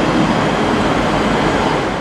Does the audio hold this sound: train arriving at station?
yes